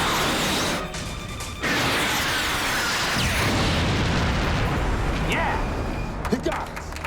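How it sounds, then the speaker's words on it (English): A missile launch and explosion in a sci-fi disaster film: a sustained loud roaring blast with a rumbling body and a brief dip early on, heavy and close throughout. "Missile launch."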